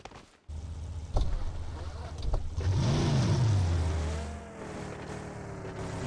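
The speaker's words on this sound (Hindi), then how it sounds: "इसका आवाज बहुत अच्छा है गाड़ी का" A car engine in the mobile battle-royale game BGMI revs up. The roar swells to a rising, wavering whine near the middle, then settles into a steady loud drone.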